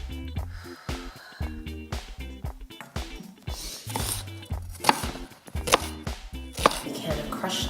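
A small whole onion being chopped with a knife while cooking, a run of close, fairly loud knife strikes on a cutting board in uneven bursts with short pauses between them, heard alone with no talk.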